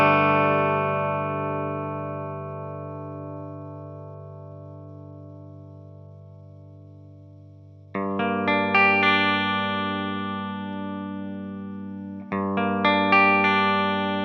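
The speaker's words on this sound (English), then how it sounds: "So I've got this dry loop of guitar." Dry electric guitar loop of sustained chords, each struck once and left to ring and slowly decay, with two fresh strums arriving near the end as a short cluster of attacks, no effects and no talking.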